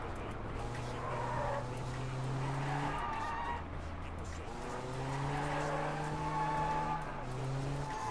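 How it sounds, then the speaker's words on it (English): Stolen car in the video game Sleeping Dogs accelerating and skidding, engine pitch rising and falling through gear shifts with tire squeal, fairly quiet under ongoing talk from a player. "I'll just steal this car and drive around until I see a taxi"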